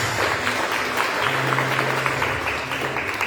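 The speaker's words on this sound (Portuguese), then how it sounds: "aplauda a salvação de Jesus trouxe para" A church congregation claps together in a steady, continuous wash of applause, fairly loud and close throughout, with a low hum running underneath.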